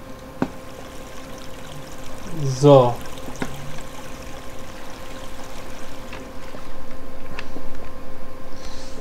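Water flows steadily after being placed in the block-building video game Minetest, a soft continuous wash that rises a little toward the end. Someone speaks briefly over it.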